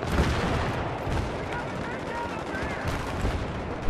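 Gunfire in the multiplayer shooter Battlefield 3, bursts of distant shots and rattling automatic fire over a busy battlefield din, with a voice talking intermittently.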